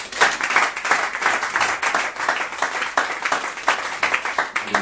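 Congregation clapping steadily in rhythm during a Sunday church service, a dense, continuous patter of many hands filling the room, with faint voices mixed underneath.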